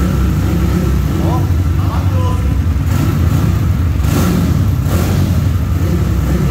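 A 190cc motorcycle engine fitted with an XR 350 carburetor, running on pump alcohol and revving loudly up close, with a rough rumbling idle and short throttle blips.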